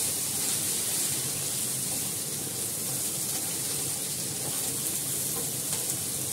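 Vegetables fry in hot oil while being stirred, giving a steady, close, even sizzle that fills the whole moment without letup.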